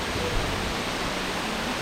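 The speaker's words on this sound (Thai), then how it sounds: "น้ำตก" A jungle waterfall thunders as a steady, loud, uniform hiss of falling water fills the whole stretch with no pauses.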